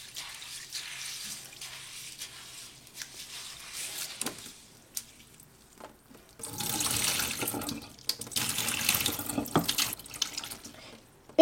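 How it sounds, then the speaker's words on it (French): Cold tap water runs into a sink to rinse lentils, flowing in uneven bursts with a quieter, lighter trickle early on and a stronger, splashing stream in the second half. "Je vais venir la laver à l'eau froide."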